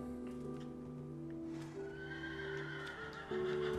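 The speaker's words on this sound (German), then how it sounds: "Ich glaube, ich habe einfach ein scheiß Pferd." A horse in the video game Minecraft whinnies in a long, drawn-out neigh, fairly quiet, with faint clip-clop under it and no talking.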